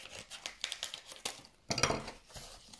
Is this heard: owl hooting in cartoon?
no